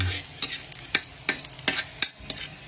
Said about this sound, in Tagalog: Simpleng ulam lang to guys, kasi sibuyas, bawang, yun lang igigisa natin.